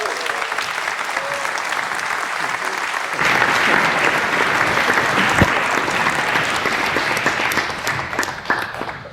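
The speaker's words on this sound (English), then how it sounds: "Can we give everyone a round of applause?" Audience at a tech conference closing keynote breaks into applause: a quieter smattering of claps swells into full, dense clapping from a large crowd that carries on steadily, slightly fading toward the end, with no talking over it.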